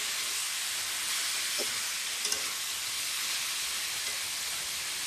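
Chunks of beef frying in hot oil for a beef khichuri give off a steady, even sizzle with a soft hiss, broken only by a couple of faint pops.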